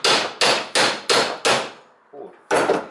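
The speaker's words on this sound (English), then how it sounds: "then I take my hammer" A hammer strikes a metal exhaust pipe while a flexible muffler section is fitted on a car or pickup truck: five sharp, evenly spaced ringing blows, a softer tap, then one more loud strike, close and clear.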